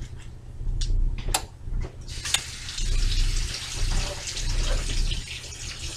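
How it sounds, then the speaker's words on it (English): Tap water runs steadily over an eggplant being washed in a kitchen sink, preceded by a few sharp clicks and handling knocks, with no one speaking. "First, what we're going to do is wash the eggplant off."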